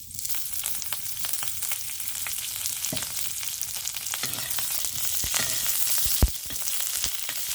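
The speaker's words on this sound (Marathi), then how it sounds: "जरा हिरव्या मिरच्या तव्यात तळून ठेवूया" Green chillies frying in a little oil on a tawa, a continuous close sizzle with scattered sharp crackles and pops and occasional stirring.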